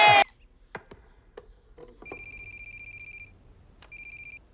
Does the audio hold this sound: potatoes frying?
no